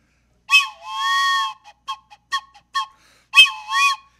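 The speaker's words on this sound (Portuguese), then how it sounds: "a ferrovia é apito de trem" Several sharp train-style whistle blasts from a handmade whistle, some long and some short, sound in an irregular pattern close by, with pauses between them.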